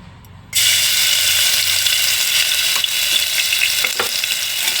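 Ginger garlic paste dropped into a hot pan for potato khichdi sets off a loud, close, continuous sizzle that starts abruptly and holds steady, with a few faint stirring scrapes.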